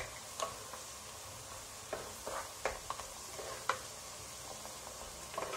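Garlic sautéing in a pan for lemon pickle gives a quiet, soft sizzle with scattered clicks and scrapes of stirring, irregular taps of a utensil against the pan, with no talking.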